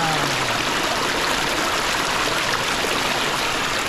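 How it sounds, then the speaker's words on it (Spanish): Steady broadband rush of a stream of water flowing through an outdoor spot where people wash, constant and fairly close with no voices. "de allá sale otra corriente de agua"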